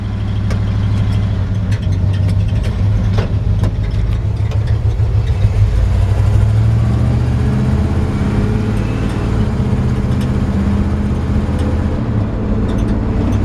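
A 1955 Chevrolet 3100 pickup built as a rat rod drives along with a steady, loud low engine rumble and road noise throughout, no talking.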